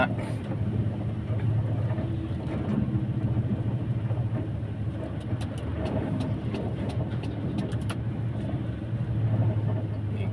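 A large sugarcane truck descends a mountain road, giving a continuous low engine and exhaust rumble at moderate distance with a few faint ticking clicks, and someone talks over it.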